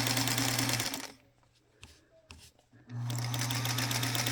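A Featherweight sewing machine stitches a quilt piece, a fast steady motor whir with needle clatter that stops briefly for a couple of soft clicks and handling noises, then resumes running at full speed.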